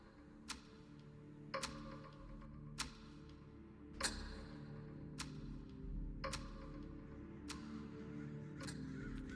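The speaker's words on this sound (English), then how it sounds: "a murder of crows flapped their wings and cawed furiously" Crows caw in a set of sharp, separate calls roughly every second, set over a steady low rumble and faint background clatter, staged as an audiobook sound effect.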